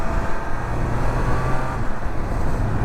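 A Triumph Speed Triple 1200 RS motorcycle runs at speed with a steady engine drone under wind rush, the quick shifter changing gear without the clutch, heard close and continuous.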